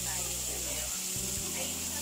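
A rib eye steak sizzles in a hot pan with a steady, bright hiss running under a person talking nearby.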